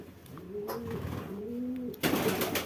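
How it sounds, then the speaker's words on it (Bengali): Pet budgerigars and other caged birds calling, with low cooing phrases followed by a sudden burst of brighter, noisier chatter near the end; close and fairly loud, no talk. "এদিকে আমার চুনিয়া এসে আছে আর কিছু বদ্রি পাখি আছে এখানে"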